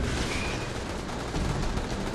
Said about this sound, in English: I can hear its gunfire.